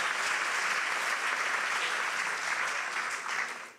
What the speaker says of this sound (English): Give your round of applause to